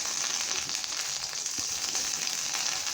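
An egg frying in a pan and browning, with steady broadband sizzling that stays even and fairly loud for the whole stretch, without any talk.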